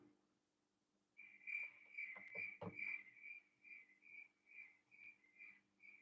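Cricket chirping sound effect with a thin, high, steady tone pulsing in regular chirps that grow more evenly spaced, plus a few soft knocks early on, fairly quiet overall with no talk.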